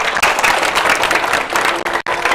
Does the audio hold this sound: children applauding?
yes